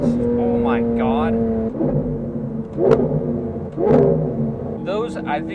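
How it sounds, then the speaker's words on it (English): Lamborghini Aventador with a loud aftermarket exhaust, deep engine drone with rising and falling revs and sharp popping bursts on downshifts, close and loud, with someone talking over parts of it. "Those, I think, might be the most satisfying downshifts of any car I've ever driven."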